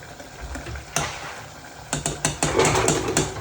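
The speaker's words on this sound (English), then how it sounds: "It's boiling away" A pot of British Indian curry base bubbles and simmers on the stove, with soft steady bubbling broken by several louder clanks and scrapes close by.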